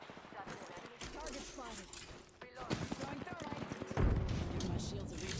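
Rapid bursts of enemy squad gunfire from Apex Legends crackle through a chaotic firefight, growing heavier and closer in the second half, with voices talking over the shooting.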